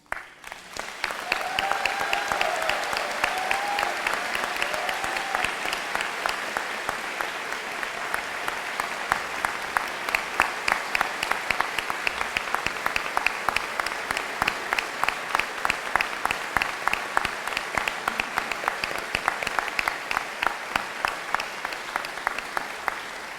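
Commencement crowd applauding honorees who stand to be recognized, a large sustained wave of dense clapping filling a big venue, steady and fairly distant.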